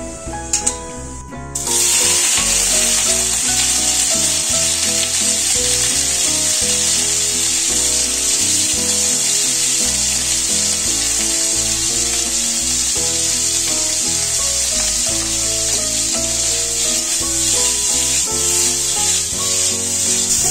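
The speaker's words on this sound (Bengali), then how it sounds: "এই খিচুড়ির জন্য পনিরগুলো একটু নুন আর হলুদ দিয়ে ভেজে নেব।" Paneer pieces fry over low heat in mustard oil with salt and turmeric, giving a loud, steady, close sizzle that starts suddenly and crackles on without pause.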